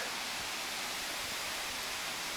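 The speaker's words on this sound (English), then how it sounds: "this is the waterfall from the outside here" Waterfall in the Springbrook National Park rainforest, a steady, dense rushing roar of falling water that stays loud and even throughout, with no voices.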